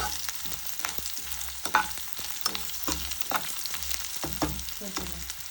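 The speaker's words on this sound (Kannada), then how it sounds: "ಇದು ಒಂದು 2 ಮಿನಿಟ್ಸ್ ಫ್ರೈ ಆಗಲಿ." Ingredients for ridge gourd chutney fry steadily in an oil-filled pan, with a constant crackling sizzle broken by repeated scraping knocks from stirring, close up and with no voices.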